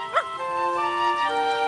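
A cartoon dog gives a short yelp followed by a sustained tonal whine or howl, close and clear, lasting about a second and a half with no talk over it.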